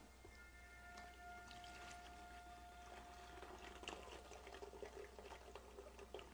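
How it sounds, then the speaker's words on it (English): Excess water is poured carefully off freshly mixed plaster in a prosthetic silicone-liner workshop, a faint, quiet trickle and splatter of liquid with scattered small drips and no voices. "I'm just going to pour off very carefully the excess water that's left over."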